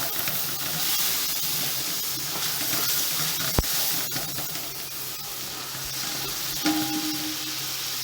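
Ground tomatoes go into a hot frying pan with oil for a cauliflower mutton curry, and a continuous bright sizzle and hiss fills the clip, with a sharp clack of a utensil partway through and no talk.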